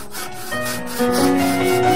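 A hand saw cuts through bamboo with steady back-and-forth rasping strokes, close and loud, in a rural village setting, with no voices over the sound.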